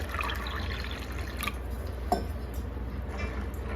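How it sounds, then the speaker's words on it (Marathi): Water is poured over soaked, swollen red chickpeas in a vessel, with soft dripping and liquid splashes and a few light clinks over a low steady background hum; no voices. "आता यामध्ये आपल्याला हरभरे बुडतील एवढं असं पाणी टाकायचं"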